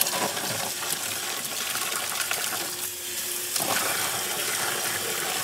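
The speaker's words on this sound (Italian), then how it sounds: "Una sciacquata alle chiavi." Metal keys rinsed under a running tap after an Evaporust rust-removal soak, a loud steady gush of water with clinks of metal and a brief dip where the flow is interrupted, no talk.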